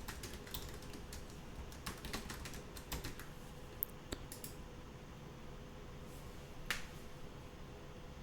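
Quick bursts of keystrokes on a computer keyboard as a password is entered, irregular clicks scattered across the whole stretch at close range over a low steady hum, with no talking.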